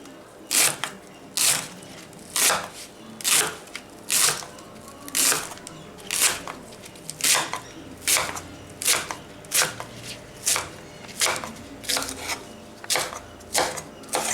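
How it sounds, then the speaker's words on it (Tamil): Leeks sliced crosswise into small pieces with a knife, regular rhythmic chops about every half second, close and crisp, with no talking. "இந்த மாதிரி குறுக்க கட் பண்ணிவிட்டு இந்த மாதிரி கட் பண்ணிக்கிறேன் சின்னதாக."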